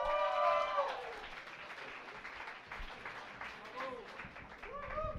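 Audience applause at a psychology conference session, steady clapping across the room with voices talking over it.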